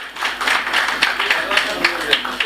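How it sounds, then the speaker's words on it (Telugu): An audience at an awards ceremony breaks into steady, dense applause for the guests, clapping filling the room with a speaking voice faintly beneath it. "Give them a big clap."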